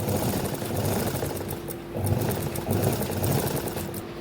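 A home sewing machine stitches a short seam in steady, rhythmic runs, with a brief pause near the middle. It is close and fairly loud over a low hum, and no one speaks.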